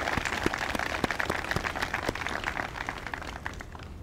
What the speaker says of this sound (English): So can we just applaud that?